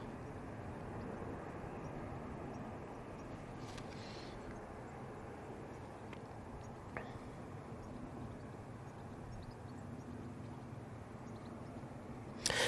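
An airliner crossing the runway at Manchester Airport, a faint, steady distant engine rumble that holds evenly throughout with no other clear events.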